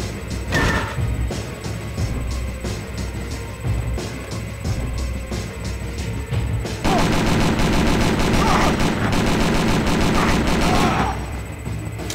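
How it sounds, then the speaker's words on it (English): Rapid bursts of gunfire in Dead to Rights: Reckoning crackle continuously, growing denser and louder in the second half, with a steady game soundtrack underneath. "get rid of some of this gunfire."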